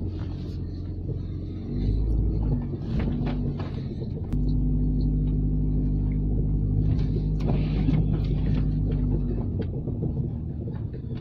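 A car in second gear drives through snow in the UK, its engine a loud, steady low rumble with shifting tone and occasional thumps, continuous throughout with no talk.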